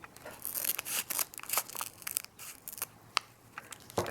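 Scissors cut open a sealed package of Iron Buddha tea, close crisp snips and crinkling plastic in an irregular burst of short clicks and rustles, quiet and alone.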